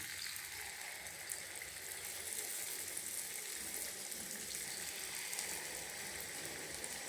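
Batter frying in hot oil in a home kitchen, a steady broad hiss and crackle that holds even and continuous throughout without any talk.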